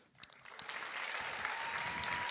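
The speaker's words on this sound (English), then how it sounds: "let's give a round of applause to all the teachers" Graduates and guests at a high school graduation ceremony in Qatar break into applause for their teachers, starting with a few scattered claps and swelling into a steady, fairly distant ovation.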